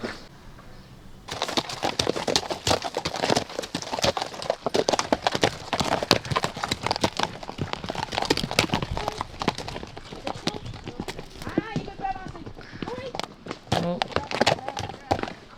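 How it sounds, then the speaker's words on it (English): Horses walk a mountain hiking trail near Banff, Canada, their hooves clip-clopping in a steady, uneven run of sharp knocks throughout, with rustling and a person talking in the background. "They even got horses doing this hike."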